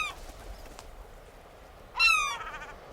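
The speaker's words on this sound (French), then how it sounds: "2 goélands volent au-dessus du port." Two seagulls over a quiet harbour at Mogador give a short burst of harsh, stacked calls after a stretch of faint background hush, ringing out loud and near for under a second before fading.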